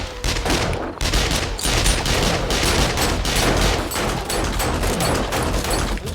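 Rapid automatic turret gunfire in the video game 7 Days to Die rattles in dense, loud bursts, nearly continuous volleys of sharp shots with a brief pause near the start.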